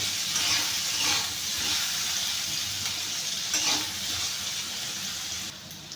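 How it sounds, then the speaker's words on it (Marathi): Diced potatoes for sabudana khichdi frying in a pan of oil, a steady close sizzle and hiss throughout with occasional soft stirring scrapes, no voices. "आपण थोडासा तेलामध्ये तळून घेऊया"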